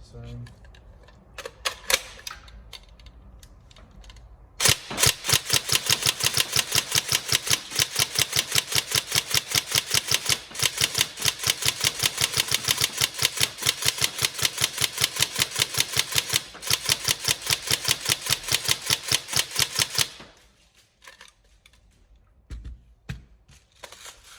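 A TM M4 NGRS airsoft electric gun fires a long rapid full-auto burst of about fifteen seconds, loud sharp mechanical cycling clicks close by, with a few single clicks and handling sounds before and after.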